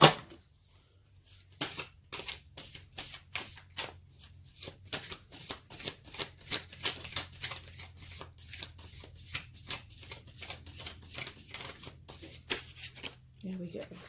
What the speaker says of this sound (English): I'm just going to get another card here.